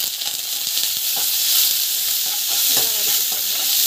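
Chana dal, peanuts, green chilli, curry leaves and cumin sauté in hot oil, a steady crackling sizzle with repeated scrapes of a stirring spoon against the pan, close and continuous, no voices.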